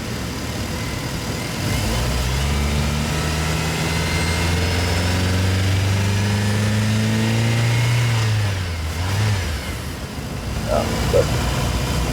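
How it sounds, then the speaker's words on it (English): A car engine hums steadily while driving, with a low droning tone that rises and falls as the revs change, close and continuous, then eases slightly near the end. "record engine noises as we drive"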